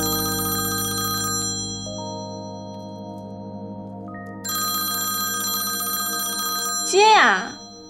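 A telephone rings with a bright, electronic melodic ringtone in a Chinese TV drama scene, repeating in bursts with a short gap, then a brief rising vocal sound near the end.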